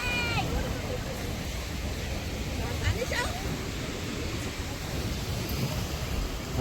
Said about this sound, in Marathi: लाटा बघू शकता आपण बऱ्याच मोठ्या लाटा आहेत